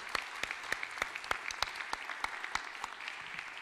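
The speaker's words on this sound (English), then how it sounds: "let's get a big round of applause for the contestants that will not be moving on to the final round" Audience applause at a contest for contestants not moving on to the final round: steady, dense clapping from a moderately distant crowd with sharp individual claps standing out, continuing evenly without talk.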